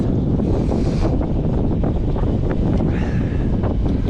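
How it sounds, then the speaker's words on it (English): Strong sub-zero wind on an island roars steadily into the microphone throughout, a dense buffeting rush with faint surf-like wash beneath and no voices. "It's a lot of wind."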